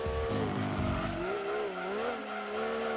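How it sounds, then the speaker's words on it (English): Race car drifting through a corner in the game Gran Turismo 2, a loud, sustained engine whine with wavering tire squeal that dips and rises as the car slides, alone without talk. "Nice little drift on the way out there."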